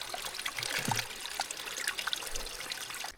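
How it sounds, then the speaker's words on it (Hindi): Water trickling from a small roadside mountain spring as a bottle is filled, a soft continuous dribble with faint splashes, close and quiet, with no talk. "यहाँ पे मुझे पानी दिखा यार, मैं थोड़ा सा पानी भर लेता हूँ पीने के लिए"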